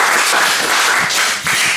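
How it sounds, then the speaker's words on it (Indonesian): A studio audience claps loudly for a wushu athlete during a talk show, with dense, sustained applause that dips briefly near the end and then swells again. "Tepuk tangan lagi."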